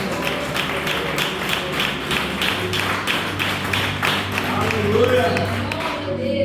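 Congregation in a Brazilian church service clapping hands in a steady, rhythmic beat, sharp repeated claps over a low sustained background with some crowd noise mixed in.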